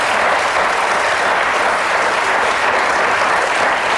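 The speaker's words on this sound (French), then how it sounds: "quand on est d'accord, on applaudit" Dense, steady applause from a television studio audience on a French evening talk show, loud and sustained throughout with no break.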